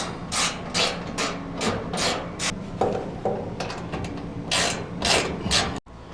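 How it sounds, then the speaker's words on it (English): A ratchet with a 9/16 socket tightens bolts while installing a crew top on a Honda Pioneer 1000, giving repeated sharp clicking and rasping bursts in an uneven rhythm, close and fairly loud, with no voices. "We'll now take our ratchet with our 9/16 socket, and we'll go ahead and tighten these down."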